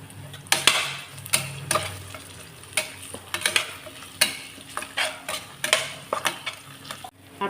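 Ginger garlic paste, green chilies and curry leaves sauté in a pan for pepper chicken. A spatula scrapes and knocks in an irregular rhythm over a steady background sizzle, close and fairly loud.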